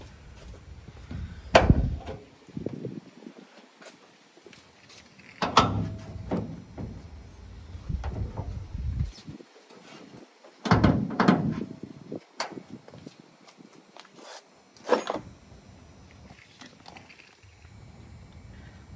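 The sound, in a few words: Honda Civic hood being closed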